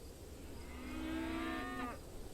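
A single cow moos in the Songs of Syx colony-building game, one drawn-out harmonic call rising to a clear, steady tone for about a second, then ending abruptly, alone over faint background ambience.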